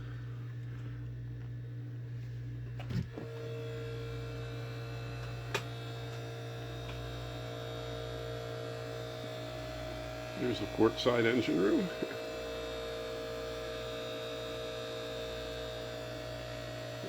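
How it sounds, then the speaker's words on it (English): Steady electrical hum from an air conditioner in the port side engine room of a 58 Hatteras motor yacht, continuous and fairly loud throughout, with someone talking briefly, a few clicks and a burst of handling noise near the middle. "The sound you hear is probably one of the air conditioners that is on right now."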